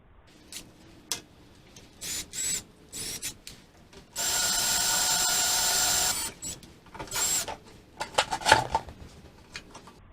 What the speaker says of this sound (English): I'll try drilling a little bit more.